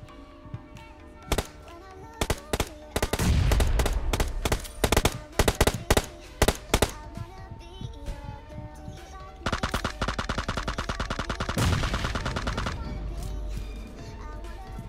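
Gunfire in the mobile battle royale game PUBG Mobile on the desert map: loud bursts of automatic fire and single shots in clustered volleys, with heavy rapid stretches near the middle and end, while someone talks over it.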